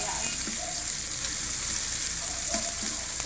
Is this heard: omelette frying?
yes